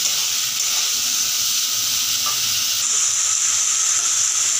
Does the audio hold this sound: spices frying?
yes